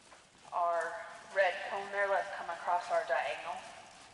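Horse trotting during a riding lesson, with soft hoof beats in a steady rhythm running under an instructor's continuous talk.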